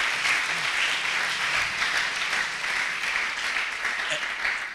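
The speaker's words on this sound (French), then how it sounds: "On acclame le Seigneur." A church congregation applauds and acclaims the Lord, a steady wash of dense clapping and crowd noise throughout, fairly loud and continuous with faint voices mixed in.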